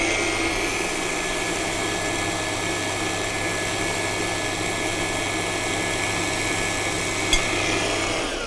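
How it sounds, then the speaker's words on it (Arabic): Electric mixer beating chocolate with the other cake ingredients, a steady whirring motor drone with a constant buzzing hum that holds even throughout, close and loud, with one brief clink near the end. "ودلوقتي احط الشوكولاتة عليهم وأضربهم"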